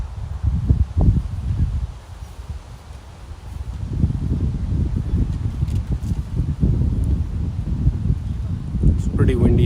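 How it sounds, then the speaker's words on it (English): Gusty wind buffets the microphone at an outdoor cricket ground during a league match, with low rumbling blasts that swell and fade unevenly, loud and close, with voices faintly present in the background. "It's pretty windy here."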